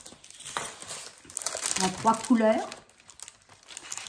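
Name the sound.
glitter paper being handled for a scrapbook album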